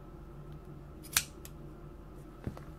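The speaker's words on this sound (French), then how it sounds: "Et je viens le couper plus proprement, hein, parce que c'est... avec des ciseaux qui coupent, c'est mieux." A pair of scissors makes one sharp, crisp snip through paper while an agenda is being decorated, then a fainter second cut follows over a low steady room hum.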